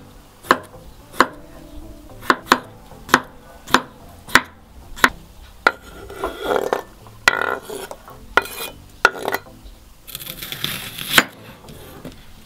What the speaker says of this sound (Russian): И нарезаем вот на такие кусочки.